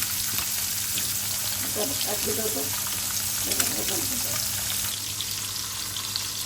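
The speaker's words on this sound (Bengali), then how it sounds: "মাছ ভাজা চলছে।" Chapila fish frying in a pan of hot oil give a steady, dense sizzle and crackle throughout, with a few brief stirring or shifting noises and someone speaking over the cooking.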